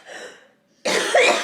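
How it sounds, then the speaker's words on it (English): A soft breathy sound, a brief pause, then one loud, harsh cough close by. "My cough is so much better."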